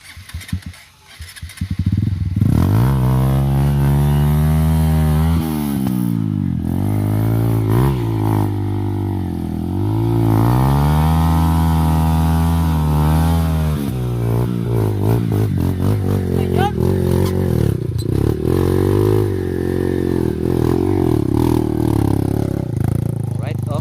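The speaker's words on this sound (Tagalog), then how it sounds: "si Sir Benson ang nag-akyat ng motor" Dirt bike engine revving hard as it climbs up Mt. Paldingan, a loud sustained drone with rising and falling pitch over nearly the whole stretch, with people talking over it.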